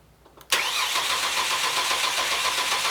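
A car engine cranks during a diagnostic scope test, starting abruptly from near silence and holding a loud, steady, broadband whir to the end, with no voices.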